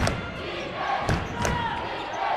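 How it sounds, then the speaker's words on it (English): A home crowd roars at a high school boys basketball game in a gym, a steady crowd noise punctuated by a few sharp thuds of the ball bouncing. "Listen to the driller crowd."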